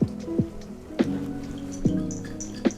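Water sloshing and dripping inside a thick tomato passata bottle being rinsed out, with a few sharp, close splashy drops spaced about a second apart over a low background.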